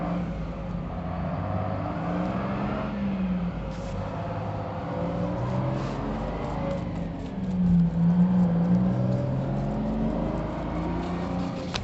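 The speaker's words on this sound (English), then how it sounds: "I'm in the center of town and it's loud" Steady, loud street traffic in a town centre with cars rumbling and revving nearby, a continuous urban roar that swells briefly toward the end.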